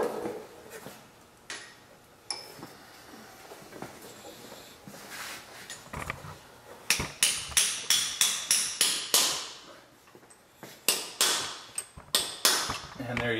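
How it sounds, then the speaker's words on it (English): Hammer blows strike a punch to bend a metal tab on an installed dowel pin retainer, a steady series of sharp, ringing metallic taps that grows louder and quicker after scattered handling noise. "Now I just need to take a hammer and a punch and bend that piece over."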